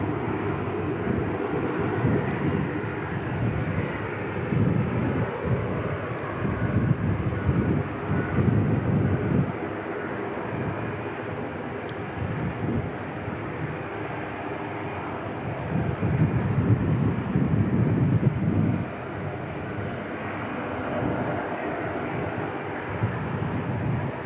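A Dash 8 turboprop sits at Christchurch Airport, its propeller engines giving a low, throbbing drone that pulses and swells in waves, getting louder around the middle and late stretches.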